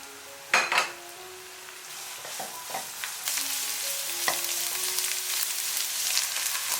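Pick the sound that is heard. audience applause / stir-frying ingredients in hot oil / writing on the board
stir-frying ingredients in hot oil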